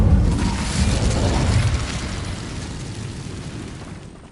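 Incendio fire spell cast in Hogwarts Legacy: a loud, rumbling burst of flame that swells and rolls on for several seconds, heavy in the low end, then fades and cuts off.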